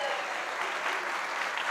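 Applause from a crowd at a 60th birthday gathering, a steady wash of clapping throughout, close and fairly loud.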